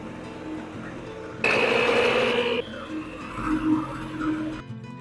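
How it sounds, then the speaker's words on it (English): A stand mixer whipping egg whites with cream of tartar into meringue, a loud steady motor whir that starts abruptly and shifts in pitch partway, with a voice speaking around it. "get yourself a stand mixer and add your whites in there"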